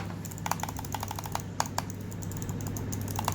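ASUS TUF Gaming M3 mouse buttons pressed repeatedly up close, giving a string of crisp, light clicks at an uneven pace over a faint low hum, with no talking.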